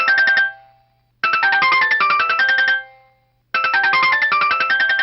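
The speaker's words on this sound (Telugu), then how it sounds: "ఇప్పుడు ఈ టైంలో ఈయన ఫోన్ చేశాడేంటి?" A mobile phone ringtone signals an incoming call: three loud bursts of a bright electronic melody separated by short silent gaps, close by, with no talking.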